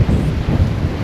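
Heavy sea waves pounding against a seaside boardwalk on a windy day, a close, loud, continuous rumbling wash mixed with wind buffeting.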